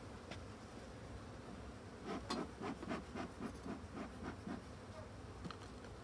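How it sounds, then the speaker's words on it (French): Agitated colony of hybrid honeybees at an opened hive, a faint sustained buzzing hum with quick sharper flights zipping close by, quiet overall and alone without talk. "Pas mal de jeunes abeilles ici."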